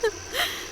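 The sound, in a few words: girl crying in a film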